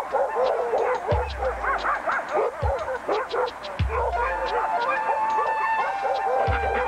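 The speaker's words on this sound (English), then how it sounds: "Sled dogs make up the camp." Alaskan Husky sled dogs at a camp bark and yip repeatedly in overlapping bursts, close and loud, with whimpering and a few low thumps in between.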